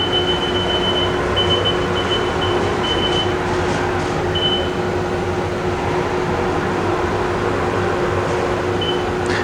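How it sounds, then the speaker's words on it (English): A Haas UMC-500SS five-axis machining center drives its x-axis, giving a loud, steady mechanical whir and hum with faint intermittent high beeping tones, continuous throughout. "It's moving the x-axis."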